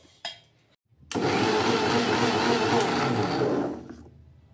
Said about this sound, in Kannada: ಇದನ್ನು ಮಿಕ್ಸಿಗೆ ಮಾಡ್ಕೋಬೇಕು.